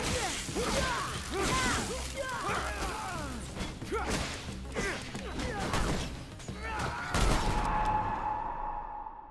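Video game gunfire in The Technomancer crackles in quick repeated shots mixed with impact crashes and whooshes, fairly loud and busy, ending in a sharp burst before fading.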